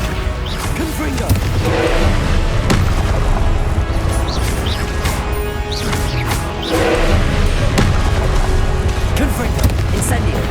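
Confringo fire-blast spells explode during a boss fight in Hogwarts Legacy, loud and continuous booms and crashes layered with dense game effects and music, several bursts rising in quick succession.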